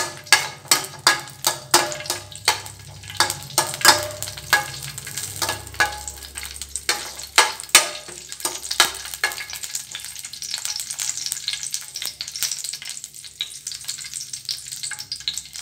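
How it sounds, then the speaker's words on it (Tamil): Chopped almonds and cashews fry in a pan for bread halwa, a sweet dish. A soft, steady sizzle runs throughout, and sharp clinks and scrapes of stirring come through clearly in the first half. "பாதாம் முந்திரி ரெண்டுமே இதில் கட் பண்ணி வச்சுருக்கேன். இதை சேர்த்து வறுத்து எடுத்துக்கலாம்."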